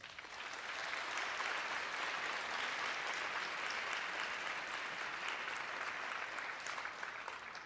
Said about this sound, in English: Could you please give Willow another round of applause?